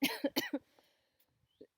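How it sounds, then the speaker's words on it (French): A short burst of coughing, several harsh coughs in quick succession up close, followed by a faint softer cough after a pause. "Parce que je tousse un peu."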